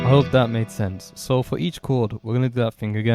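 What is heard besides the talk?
No distinct noise like a dog, phone or traffic.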